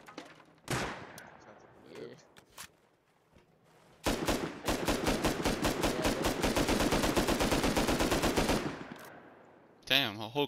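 Full magazine emptied in the video game Rust: a long, rapid automatic burst of evenly spaced loud shots lasting several seconds, preceded by a couple of isolated shots and followed by another sharp report.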